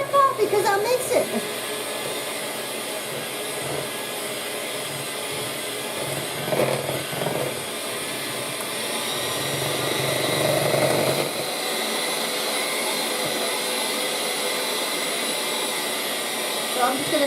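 An electric mixer whirs steadily while milk is blended for a pineapple Cool Whip dessert, a continuous droning hum with brief bumps and swells, close by, and a voice is heard over it at times.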